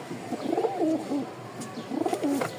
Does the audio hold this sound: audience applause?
no